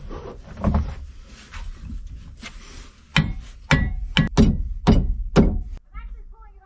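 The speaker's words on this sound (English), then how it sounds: "I'm trying to hammer off an iron flange that's on the back of it" Several sharp metallic hammer strikes on an iron flange at a drive shaft of a 1962 wooden Tahiti boat ring out in an uneven series, loud and close, with scraping and shuffling between them.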